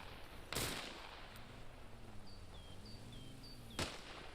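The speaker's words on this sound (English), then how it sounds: "And then shots go." Gunfire in the military shooter Arma: two sharp, distant-sounding shots about three seconds apart, with a faint low engine drone and thin whistling chirps between them.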